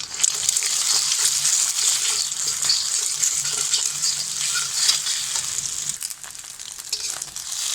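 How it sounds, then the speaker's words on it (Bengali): An egg fries in a wok, a loud, steady crackling sizzle running unbroken from start to finish, close and dense, with faint clatters underneath. "এখন একটা ডিম ভেজে নেব।"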